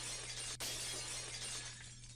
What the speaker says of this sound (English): The unpleasant piercing sound of shattered glass